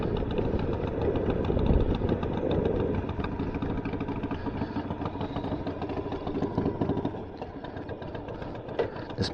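Cold motorcycle engine idling steadily nearby, a rough, slightly uneven mechanical chug that runs continuously with no talk over it.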